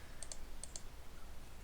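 Two quick pairs of sharp computer mouse clicks, close and faint, over a low steady background hum, each pair spaced closely like double clicks.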